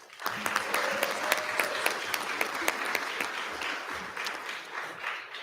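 Applause from a school board meeting audience honoring a student of the month, with a moderate group clapping in a room, individual claps distinct, steady and then gradually thinning out.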